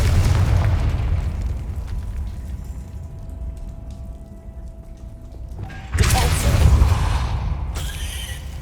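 A Confringo explosive spell blast in Hogwarts Legacy, a sudden loud boom with a crackling burst that rings out over a rumbling, lower-level battle din.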